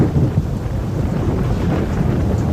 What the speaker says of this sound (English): a heavy rainstorm hits.